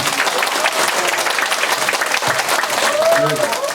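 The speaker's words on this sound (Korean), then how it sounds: "박수 한번 부탁드리겠습니다" Audience applause at a Korean political talk-show panel event: dense, steady clapping from a crowd filling the whole clip at close range, with a brief voice or tone near the end.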